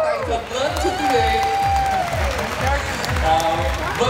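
A crowd at the 2020 Orange County Tet fair claps along with a cheerful beat as amplified music plays, the applause and rhythmic thumps mixing with a host's voice and crowd talk nearby.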